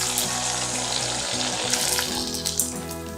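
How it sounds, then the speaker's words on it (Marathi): A sabudana potato papad deep-fries in hot oil, a loud dense bubbling sizzle that fills the space continuously, close up and with no voices. "असे तळून कुसकुशीत पापड झालेले आहेत"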